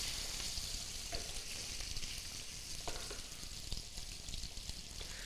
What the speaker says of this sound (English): we're going to put the fat cap down right in the oil